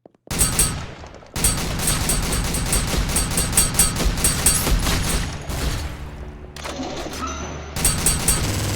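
Pump shotgun with limited ammunition blasting in a first-person video game set in a bloody mansion, dense loud bursts of gunfire packed together, then a brief lull with a low rumble before the shooting resumes.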